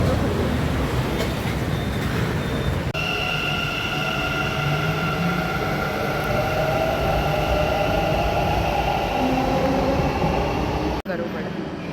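A train rumbles steadily through Yeshwantpur railway station in Bangalore, with droning tonal whines over a dense, continuous roar for about eleven seconds before cutting off abruptly; faint voices may mingle in the background.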